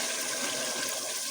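A glass of water poured into a cooking pot of meat and peas, a steady splashing pour heard close and alone for just over a second.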